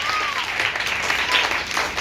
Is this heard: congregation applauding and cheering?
yes